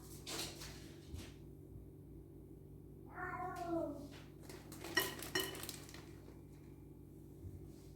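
A pet cat meows in a home kitchen during cooking, a single drawn-out call with a falling, wavering tone, followed by the clink of dishes and utensils nearby against a steady low hum.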